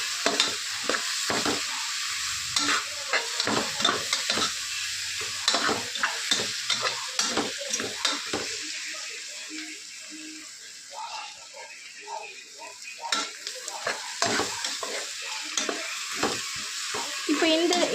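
Spices fry in a pan for hotel-style biryani, sizzling while a spoon stirs and scrapes them in repeated strokes. A voice speaks at times over the cooking.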